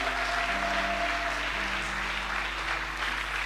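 Steady, dense applause from an audience cheering the parents fills the whole stretch at an even level, with a faint sustained musical tone underneath and no voices standing out.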